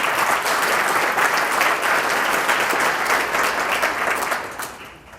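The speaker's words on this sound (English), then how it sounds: "A round of applause for Mr. Michael Quinn." Sustained applause from an audience at a Hall of Fame induction ceremony honoring an inductee, dense and steady clapping throughout that fades slightly at the end.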